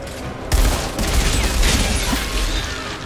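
Sustained gunfire in the Outriders shooter game, a loud, dense volley of overlapping shots that bursts in after a brief lull and keeps rattling without pause.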